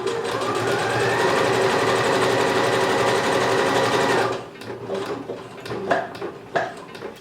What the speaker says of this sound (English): Now grab the elastic and just use the elastic stitch and go.